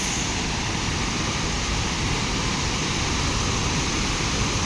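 A waterfall roars as a loud, dense, unbroken rush of falling water, close and overwhelming, holding steady throughout with no voices.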